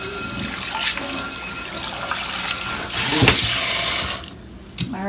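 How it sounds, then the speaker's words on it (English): Tap water runs into a kitchen sink in a steady rushing stream for most of the stretch, then cuts off abruptly near the end, leaving quieter handling sounds. "We're going to put this in the sink, add water."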